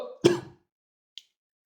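A single throaty cough, close and fairly loud, followed by silence and a tiny faint click; no speech.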